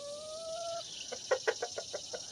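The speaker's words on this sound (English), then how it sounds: "There's a chicken doing her Ed song and also being exceptionally dramatic about it." A hen gives a drawn-out egg-song call, then a quick run of sharp, rhythmic clucks, fairly close and alone, with a faint high hiss behind.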